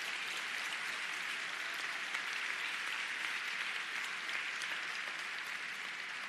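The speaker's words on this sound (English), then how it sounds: "Give her a round of applause." A crowd at a county address gives a steady, full round of applause that fills the entire moment at an even, loud level with no voices over it.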